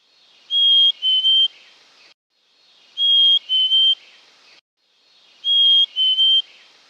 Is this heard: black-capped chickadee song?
yes